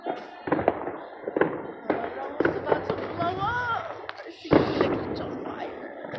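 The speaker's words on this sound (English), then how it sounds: "I want them to hear all the noise of the fireworks in my phone." New Year fireworks burst outdoors in a string of sharp, uneven cracks and booms, some near and loud, others fainter, with whistling rises between them and people talking over the noise.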